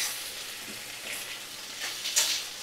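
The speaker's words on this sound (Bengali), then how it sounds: "ফ্লেমটা মিডিয়ামে রেখে ভালো করে নাড়াচাড়া করে নিচ্ছি।" Vegetables for a koi fish curry sizzling over a medium flame as they are stirred, a bright hissing fry that swells with each stir, close and unaccompanied by speech.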